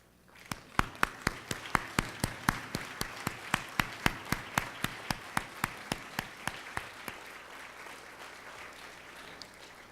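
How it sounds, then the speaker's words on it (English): Audience at a university law faculty inaugural class ceremony applauds relatives and family members of graduates, with sharp individual claps standing out in a steady rhythm over softer crowd clapping, moderately distant and tapering off near the end. "stand and be recognized with applause to show our"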